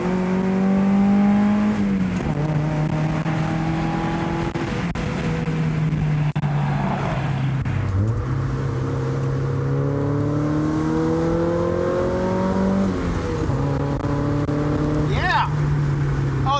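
Mazda Miata with a RoadsterSport 3 exhaust revving, engine pitch climbing and dropping in repeated sweeps, loud and close, with people talking over it.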